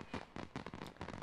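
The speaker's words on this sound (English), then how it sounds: "Fireworks." Fireworks in The Sims 4 game pop and crackle in a quick series of faint bursts, four or five explosions in just over a second.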